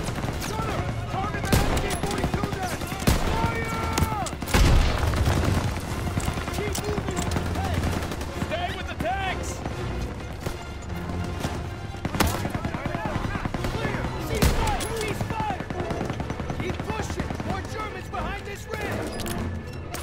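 Rapid bursts of machine-gun and rifle fire crackle continuously in the Call of Duty video game, dense and sustained, with shouted voices over the shooting.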